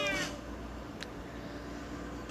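A cat meows in the mobile game Cat Hotel, a faint cry heard a couple of times against soft background noise.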